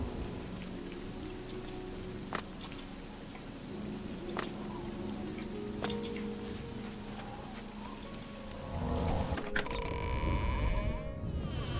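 Steady rain patters and hisses throughout an outdoor scene in the video game Oblivion, moderately loud and continuous, with a few sharp clicks and a louder rumbling swell near the end.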